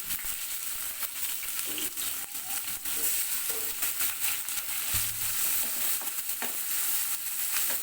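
Chopped onions frying in oil in a wok-style pan, a steady soft sizzle with occasional scraping stirs, close and continuous, no talking.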